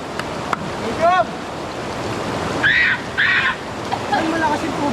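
Strong rushing river water with waves at Cavinti, Laguna, a steady loud roar throughout, with brief voices and shouts cutting in over it.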